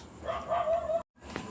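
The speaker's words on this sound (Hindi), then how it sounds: "पीछे कुत्ते भौंक रहे हैं" Dogs barking in the background outdoors, a steady run of yaps and barks for about a second, then a short break before one more faint bark.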